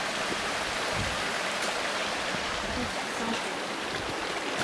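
A creek flowing along a mountain trail, a constant close rush of water with steady broadband hiss and no breaks, heard on its own without talk.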